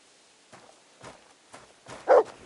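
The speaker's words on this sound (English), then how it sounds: "Good dog, Mutz." A dog barks in the medieval role-playing game Kingdom Come: Deliverance II, several short soft woofs spaced about half a second apart, rising to one louder bark at the end, with no talk.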